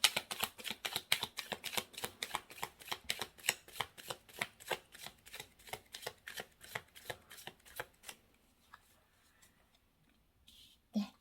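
Tarot cards shuffled and handled before three hint cards are drawn for a weekly reading: a long run of steady, rapid riffling snaps close up, fading into softer card slides and a final light tap.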